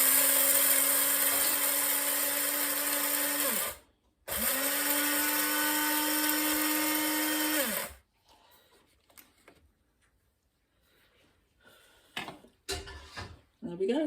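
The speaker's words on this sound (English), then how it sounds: "Into the spice grinder." Small electric spice grinder pulverising a batch of about 60 grams of coriander seeds, two loud whirring bursts of about four seconds each with a short pause between them, followed by clattering and handling noises.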